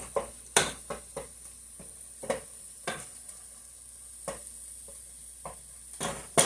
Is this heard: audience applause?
no